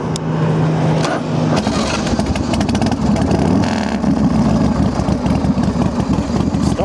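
A 2000 Big Dog Bulldog motorcycle with an S&S carb is started up, cranking briefly before it catches and settles into a loud, close, throbbing idle.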